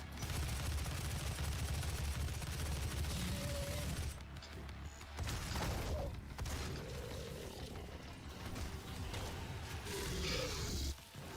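Plasma cannon in Doom (2016) firing amid a dense, loud, continuous clatter of game weapon fire and mechanical noise, with brief lulls between sustained volleys.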